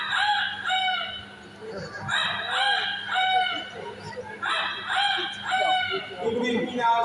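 Parrots at a Singapore bird park imitate a rooster crowing, giving three loud, drawn-out cock-a-doodle-doo calls at steady intervals, with clucking sounds and faint background noise in between.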